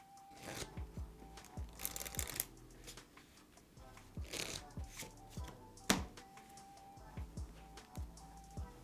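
Playing cards are table shuffled again and again, giving quick crisp riffling bursts, soft taps and slides of the deck on the table, heard close with no talk.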